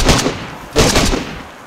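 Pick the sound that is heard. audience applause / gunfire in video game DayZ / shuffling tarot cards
gunfire in video game DayZ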